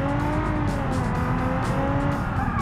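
A 3.5-litre V6 car engine in the BeamNG driving game hums steadily and close, a continuous droning tone with slight pitch shifts, no talking over it.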